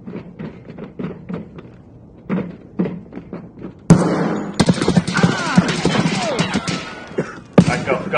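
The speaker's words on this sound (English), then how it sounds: "I don't even know where I was getting fired at." Gunfire in the Escape from Tarkov video game, first a quick run of single sharp shots, then a loud, dense burst of rapid automatic fire with echoing impacts, close and harsh, one final shot trailing after.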